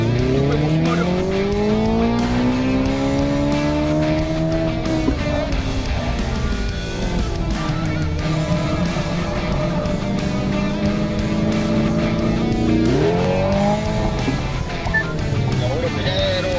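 A 650-horsepower Hyundai Ioniq 5 N electric car in N pedal mode with N Grin Boost accelerates hard, its synthetic engine note droning loud and continuous, sweeping up and down in pitch without gear-change breaks.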